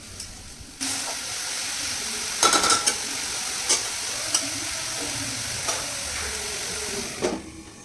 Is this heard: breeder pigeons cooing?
no